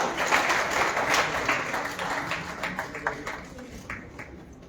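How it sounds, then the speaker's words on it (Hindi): Applause from an audience welcoming a poet onto the stage at a literary festival in Haridwar, a dense wash of clapping that is loud at first and gradually thins and fades over a few seconds. "जोरदार तालियों से स्वागत करें।"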